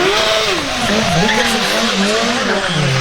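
A stock BMW motorcycle at a Motorrad stunt show in Cleveland, fitted with aftermarket exhaust, revs loudly and continuously, its engine pitch rising and falling with tire squeal and crowd noise around it.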